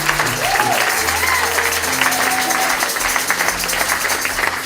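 A church congregation applauding, sustained dense clapping throughout with crowd murmur and some sung or called voices mixed beneath, loud and full-room.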